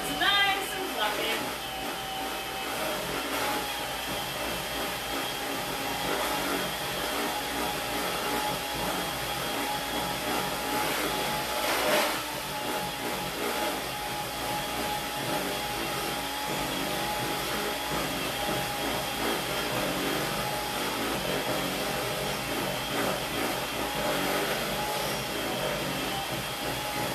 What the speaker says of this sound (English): you can use a hand mixer, or you can use like the electric mixers, the big blenders. We're just gonna mix it up for 2 minutes.